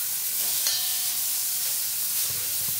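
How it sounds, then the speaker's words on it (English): Lamb sirloin sizzles steadily in a hot pan, a bright continuous hiss with a brief sharper crackle as the meat is flipped, close and without talk. "I'm going to flip this lamb."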